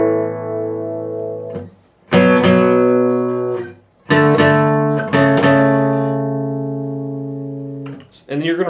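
Guitar playing one pass of the outro of a song: a few loud, ringing strummed chords, each left to sustain and fade, heard close and alone.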